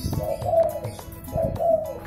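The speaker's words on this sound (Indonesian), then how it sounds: "Ada burung doang ini." Birds coo softly nearby in two short bursts of low, throaty calls amid faint background noise.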